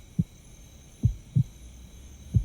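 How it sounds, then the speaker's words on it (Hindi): A heartbeat sound effect in a Hindi-dubbed action film thumps four times, low and distinct, irregularly spaced, over a quiet background hum, with no speech. "तुम्हें सुनाई दे रही है क्या मेरे दिल की धड़कन?"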